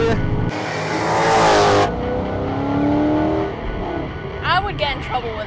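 A 700+ hp 2015 Ford Mustang GT roars hard as it accelerates at a drag strip, rising loud and close before fading, with people talking over it.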